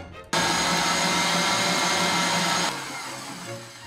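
An electric mixer whips cream with mascarpone and powdered sugar for a cake filling, a loud steady motor whir that starts abruptly and drops to a lower hum near the end, with no talking.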